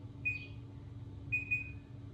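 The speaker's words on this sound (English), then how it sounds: "Now I'm gonna set the timer for the oven" An oven timer beeps as it is set in a home kitchen during banana bread baking: a few short, faint electronic beeps, one early and two close together later, over a low background hum.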